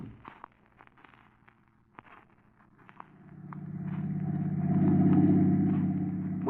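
A car engine in a radio drama rises from faint idle under scattered clicks to a steady, louder droning rumble, building in the second half as the vehicle drives along.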